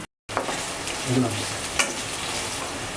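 Chopped onion sizzles in hot oil with bay leaf, black and white cardamom and a few pieces of cinnamon, a loud, continuous close frying hiss that follows a brief moment of silence, with a light clink of stirring.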